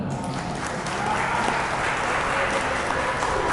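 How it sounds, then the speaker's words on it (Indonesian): A gathering at a Ramadan community event claps hands together, producing a loud, dense, continuous applause that swells slightly after the first second and holds steady at close range. "Tepuk tangan"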